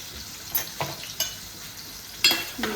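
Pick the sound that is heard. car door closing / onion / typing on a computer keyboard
onion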